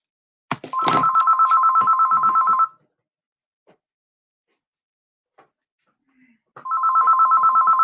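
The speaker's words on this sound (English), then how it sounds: "Now the phone rings." A telephone rings nearby with a loud, rapid warbling trill, one long ring lasting about two seconds, then a pause broken by faint clicks, then a second ring begins.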